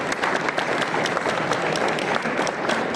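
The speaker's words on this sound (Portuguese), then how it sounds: "Uma grande salva de palmas para eles" Audience applause at an anime convention stage in Santarém, a dense, steady crowd clapping throughout with a few sharper individual claps standing out.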